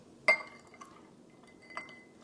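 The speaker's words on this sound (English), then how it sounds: "We're going to pour this in. Pour it in slowly." Liqueur being poured slowly into a glass for a Black Russian, heard as a sharp glass clink followed by faint trickling and a second soft clink in a quiet room.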